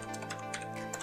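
Short burst of typing on a computer keyboard, close and steady, with quick key clicks over a constant low hum and no voices.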